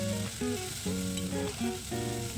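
Green pea paste hits hot oil seasoned with asafoetida, giving a continuous loud sizzling hiss under a tonal musical backdrop, with no talking.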